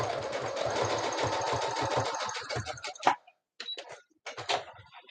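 A sewing machine stitches a dart in a pink bunny beanie, running fast in a steady buzzing burst for about three seconds, then a few short starts and stops with clicks, close by.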